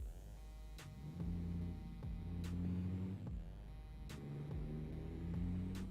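A truck engine runs steadily and loudly as the vehicle pulls away and rolls off, with a low rumbling hum, shifting engine tones and a few sharp clicks and knocks over the drone; no one speaks.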